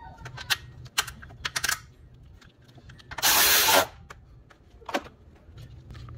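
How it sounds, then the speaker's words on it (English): An ignition coil on a 2003 Ford Thunderbird is bolted down. A brief, loud burst from a power tool runs for about half a second, surrounded by sharp clicks and ticks from tools and parts nearby. "And then we'll go ahead and bolt that down."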